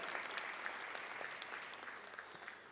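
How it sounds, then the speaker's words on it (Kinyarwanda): Applause from a large wedding audience at Miss Nishimwe Naomie and Michael's ceremony, a dense steady patter of many hands clapping at moderate distance, continuing evenly throughout without voices on top. "Umuha amashyi menshi cyane."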